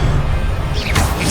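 An Incendio fire spell is cast in Hogwarts Legacy, a sudden whooshing crash near the end that rises over a steady low game rumble.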